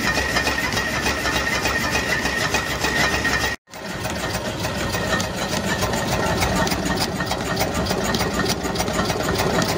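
A homemade Stirling engine generator runs with its pistons rubbing up and down inside a metal tube, driving an alternator. It makes a steady, dense mechanical churning with metallic contact, continuous and close, broken by one brief cut-out.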